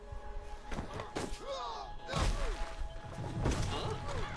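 A dynamite stick explodes in the video game Red Dead Redemption 2, giving a deep booming thud followed by rumbling debris and crackling, set against game ambience and a whistling sound effect.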